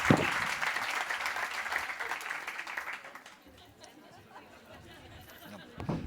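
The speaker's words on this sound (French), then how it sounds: "on l'applaudit bien fort" A conference audience applauds a speaker, loud sustained clapping for about three seconds that fades into chatter and light laughter, with a fresh burst of claps at the end.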